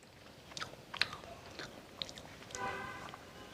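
Someone chews cold spicy rabbit meat, with soft crunchy bites and wet mastication sounds coming close and fairly quiet, in irregular bursts with a few sharper clicks.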